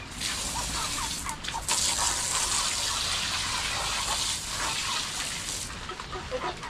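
Water gushing steadily from a hose onto a backyard garden, with chickens clucking intermittently nearby under the continuous spray.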